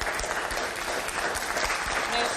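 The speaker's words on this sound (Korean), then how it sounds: "수고하신 후보님께 박수 부탁드리겠습니다." Lawmakers at a South Korean People Power Party general assembly applaud a candidate, giving steady, dense clapping from a roomful of hands for a couple of seconds with no other sounds standing out.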